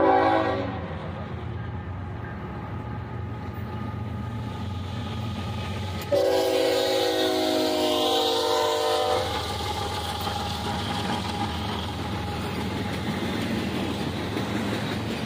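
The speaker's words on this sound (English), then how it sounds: "The CSX Railroad." A CSX freight train passes at Auburndale or Lakeland, Florida, with a loud steady rumble and rolling wheel noise and a horn blast sounding near the middle.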